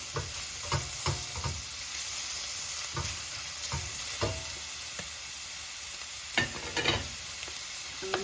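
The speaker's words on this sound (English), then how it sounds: "So I'm just gonna saute that for a few minutes." Finely diced onions sauté in a pan with a steady, even sizzle. Occasional spoon scrapes and stirring knocks come through close by, with no talking.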